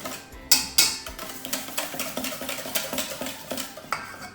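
Utensil scraping and clinking against a bowl while stirring homemade vanilla flan ingredients with vanilla extract, a steady quick rhythm of close taps, no talking.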